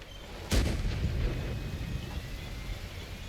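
A single heavy tank cannon shot in World of Tanks on console, a sharp loud blast that rolls off into a long low rumble and lingering ambient hum.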